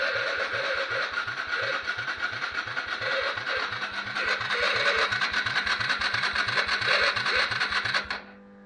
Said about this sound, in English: I guess we can try and start it.